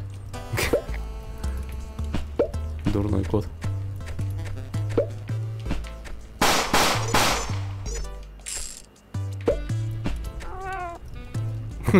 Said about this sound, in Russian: Кот. Дурной кот.